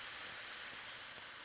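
Chicken stock poured into a hot pan beside pork chops sizzles and hisses steadily as it deglazes, a loud continuous wash of steam noise with no voices.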